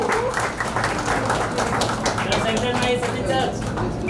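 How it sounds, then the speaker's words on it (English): An audience at a semiconductor facility launch event applauds Sachin Tendulkar with dense, sustained clapping that fills the room, while a voice carries on over the noise. "Ladies and gentlemen, please give a huge round of applause for none other than Sachin Tendulkar."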